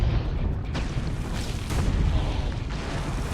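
Cannon fire in Assassin's Creed Brotherhood, a dense, continuous low rumble of booms with a few sharper blasts breaking through, loud and sustained throughout the whole clip.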